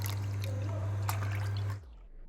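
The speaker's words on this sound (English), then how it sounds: "Pour 4 cups of full fat milk into saucepan." Full fat milk is poured into a saucepan in a kitchen, a steady splashing, trickling stream with a low hum beneath that stops abruptly near the end, close and moderately loud.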